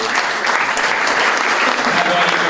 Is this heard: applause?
yes